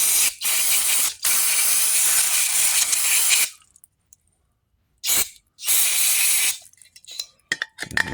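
Long hissing bursts of aerosol cleaner spray into an opened flap on a pressure washer, close and loud, with a brief pause between them and small clicks and rustles afterward.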